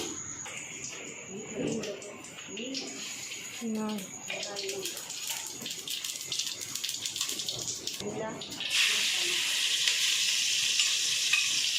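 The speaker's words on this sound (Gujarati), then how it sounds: "હવે ગેસ ચાલુ કરીને આપણે બટેટાને વઘારવાના છે" Potatoes hit hot oil for tempering on a gas stove, giving a loud, steady sizzle that swells in the last few seconds, after a stretch where a voice talks over softer background frying.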